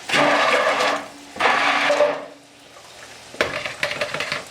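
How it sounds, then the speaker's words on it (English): A hand blender mashing mushrooms in a pot, in loud whirring bursts of about a second each separated by brief pauses, with clattering near the end. "we're going to use the hand blender and we're going to mash up our mushrooms"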